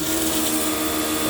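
A KYODO Prowash 80 portable jet cleaner for washing cars, motorbikes or air conditioners runs with a steady, loud motor whine and hiss, with no break.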